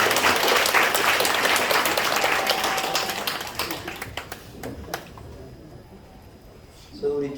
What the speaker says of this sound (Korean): 박수하겠습니다.